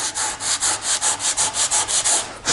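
Hand sanding of wood filler on a wood surface with coarse 36 grit sandpaper: about a dozen quick, rhythmic rasping strokes, close and fairly loud, with no talking.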